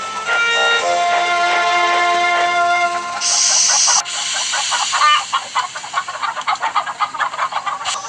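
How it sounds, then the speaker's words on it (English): Chickens cluck and squawk in quick irregular bursts, mixed with hissing and a busy, rhythmic background of machinery, in a Thomas the Tank Engine story. "First, Thomas collected the chickens."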